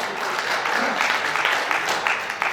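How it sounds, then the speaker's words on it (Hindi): Audience applause at a Hindi poetry recitation by Kavi Ajay Mohan Tiwari, a steady wash of many hands clapping together, fairly loud and continuous throughout. "ताली बजा दो"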